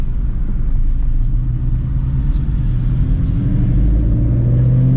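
A Shelby GT350 Mustang's V8 rumbles deep and loud from inside the cabin as the car pulls out and drives off, the engine note rising steadily with gentle acceleration.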